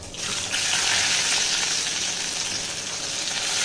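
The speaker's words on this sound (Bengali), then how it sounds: "দেখো এলাচগুলো ফাটছে" Cardamom, cumin, dried red chilli and whole garam masala fry in hot oil for khichuri, giving a steady, close hiss of sizzling that swells quickly and holds evenly with no talk.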